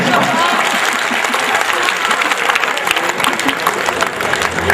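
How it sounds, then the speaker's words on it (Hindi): Listeners at a Hindi humorous poetry recital clap loudly and steadily throughout, with voices mixed in among the applause. "ताली वाली बजा सकते हो आप।"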